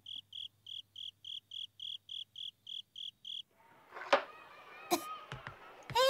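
A cartoon cricket chirps in an evenly spaced run of about a dozen bright pulses, clear and alone at first, followed by rustling, thumps and brief vocal sounds.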